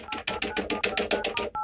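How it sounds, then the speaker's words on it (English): Touch-tone dialing on a regular landline telephone: about ten quick electronic beeps in an even rapid rhythm, close and clear, ending with a short final tone and no talking. "you could dial an extra digit and it worked just fine, like the last digit"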